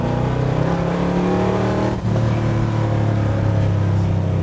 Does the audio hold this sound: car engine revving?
yes